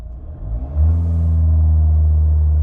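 A diesel Mahindra XUV engine held at high RPM during DPF regeneration, a steady loud drone that climbs and settles after a brief rise, running alone and close.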